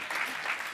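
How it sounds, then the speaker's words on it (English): A brief burst of audience clapping at a student athlete summit, dense and fairly quiet, lasting under a second. "Y'all can clap."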